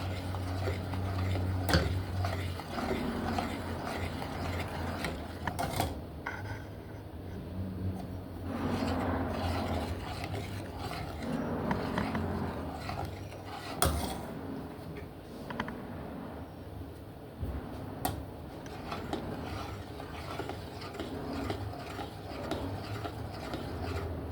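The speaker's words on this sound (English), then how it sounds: "I'm stirring the pot until it basically comes to a boil." Oats porridge for Jamaican-style breakfast is stirred in a pot as it heats toward a boil, making soft repeated scraping and rubbing strokes close by, with scattered light clicks and no talking.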